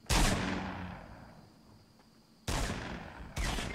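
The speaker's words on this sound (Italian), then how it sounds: "Non capisco mica da dove vengono gli spari." Gunshots in the Fortnite video game, three loud sharp blasts spaced over a few seconds, each with a long decaying echo, with faint ambient insect-like hum between them.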